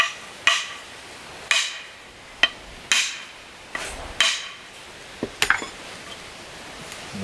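An axe head is hammered further onto the handle of a Husqvarna 26-inch forest axe with about nine sharp, ringing metallic blows at uneven intervals. Each blow is close and fades quickly, and no one speaks.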